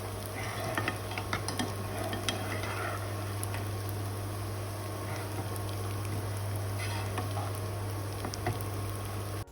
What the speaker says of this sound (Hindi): प्याज और लहसुन को करीब 2 से 3 मिनट के लिए सौते करेंगे till the time they become little soft